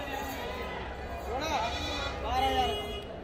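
Goats bleating amid a busy goat market, two wavering calls rising out of steady crowd chatter and people talking nearby.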